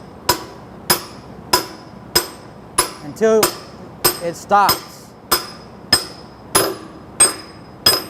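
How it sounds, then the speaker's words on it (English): A hammer drives a wheel bearing seal into place, about a dozen sharp, evenly spaced metal strikes ringing out close by, with someone speaking briefly between blows midway. "Once I hit actual bottomed out, you can hear the difference in the hammer."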